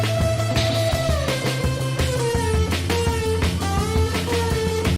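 Electric guitar riff, played over a full band with steady bass and drums, with bright melodic guitar lines weaving across a loud, dense mix.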